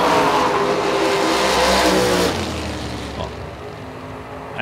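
Drag race launch between an S10 pickup truck and a 1934 Chevy Roadster, loud roaring engines at full throttle that sweep past and fade into the distance, with no talk.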